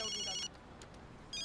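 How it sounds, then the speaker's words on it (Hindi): A mobile phone rings in a Hindi comedy film scene, with bright repeating ring tones at the start and again at the end and a quieter gap between. "ये अवंतिका का फोन है, ले."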